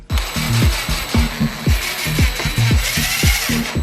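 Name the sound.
power drill driving self-tapping screws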